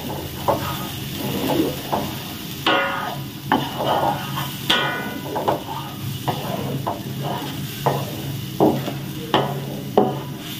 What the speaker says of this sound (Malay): kita goreng bawang kita ni kita tumis bawang kita ni sampai dia garing lah